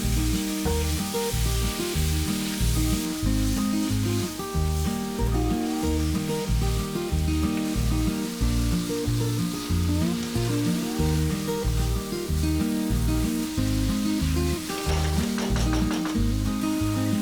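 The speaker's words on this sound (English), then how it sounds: "Then add the minced beef and fry it for about 3 to 4 minutes until the beef has changed its color." Minced beef fries in a pan with a continuous close sizzle and crackle, heard under strongly rhythmic background music.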